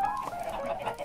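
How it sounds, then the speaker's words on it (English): Chickens clucking in Minecraft, a quick run of close, nasal game-fowl clucks packed into about a second, with no talk over them. "Why do you have so many chickens here again"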